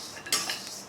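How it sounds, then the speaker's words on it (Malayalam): Dry rice grains being stirred and roasted over a medium flame in a hot pan for a healthy ladoo, with a short scraping clatter of a spoon against the metal, close and fairly quiet. "അരി ചേർത്തതിന് ശേഷം ഒരു മീഡിയം ഫ്ലെയിമിൽ വെച്ച് അരി നന്നായിട്ട് വറുത്തെടുക്കണം"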